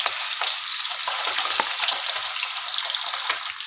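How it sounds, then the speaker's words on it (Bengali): Tangra fish fry in a little hot oil, giving a dense, steady sizzle with scattered sharp pops and crackles throughout, close and loud, with no voices. "এই যে মাছ ভাজছি, তেল কিন্তু খুব কম ছুটছে"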